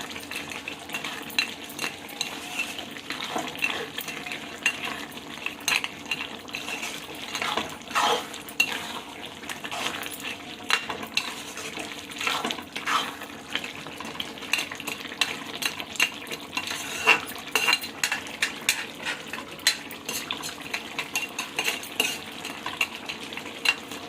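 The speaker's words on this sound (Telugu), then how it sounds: "ఒకసారి కలుపుకున్నామండి." Crab curry stirred in a pan with a spoon, a steady run of scraping and clinking metal strokes against the cookware over faint frying sizzle, close and busy without any talking.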